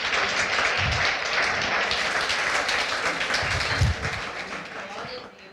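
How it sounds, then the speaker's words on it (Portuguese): Congregation applauding at a church service for Jesus: sustained, dense clapping from a crowd, steady and fairly loud throughout, tapering slightly at the end. "Dá uma salva de palmas para Jesus"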